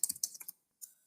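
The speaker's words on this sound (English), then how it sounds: "Typing that in for you." Quick bursts of computer keyboard typing, close and fairly quiet, a short run of clattering keystrokes followed by a pause and one final brief tap.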